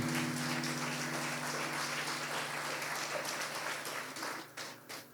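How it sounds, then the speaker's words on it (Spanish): A congregation at a church service claps together in sustained applause, a dense wash of hand claps that thins out and fades toward the end. "un aplauso para el Señor."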